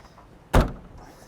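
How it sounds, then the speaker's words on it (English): Heavy soft-close trunk lid of a Lexus LS sedan shutting with a single short, solid thud up close, then quiet. "This trunk door's heavy, huh?"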